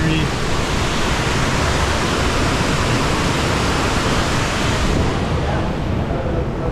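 Water rushes beneath a covered bridge on a bikepacking route, a loud, constant broadband roar that stays unbroken from start to finish with no clear voices.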